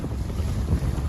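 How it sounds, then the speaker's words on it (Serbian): A strong wind gust of 50-60 km/h buffets boats on open water during a rowing trip, a steady roaring rush with heavy low microphone buffeting and a faint wash of waves. "Evo ga udar, ovo je preko 50-60 km na sat udari vetar"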